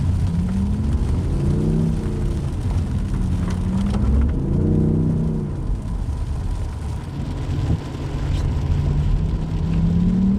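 A BMW i8 in comfort mode drives on winter snow, its engine note swelling and easing in smooth, steady waves under a continuous road hum, with no talking.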